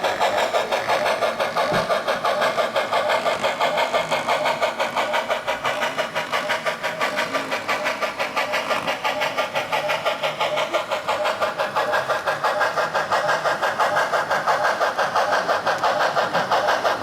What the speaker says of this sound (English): You can hear a little bit of motor drive gear noise there.